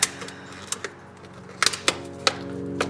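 Sharp scissor snips cutting through the plastic visor of a Daft Punk helmet, a handful of crisp separate clicks and crunches spaced irregularly, close and fairly quiet with no talking.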